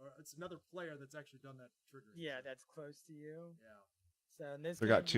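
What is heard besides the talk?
No everyday noise stands out behind the speech.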